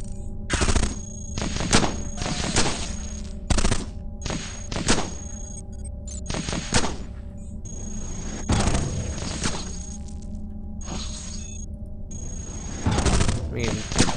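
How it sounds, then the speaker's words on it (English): Enemy robots in Cogmind fire through walls, producing repeated sharp gunshot blasts and thumping impacts in irregular bursts across a noisy electronic backdrop. "I love their ability to just shoot through walls at me"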